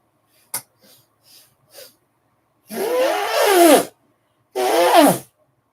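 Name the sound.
nose blowing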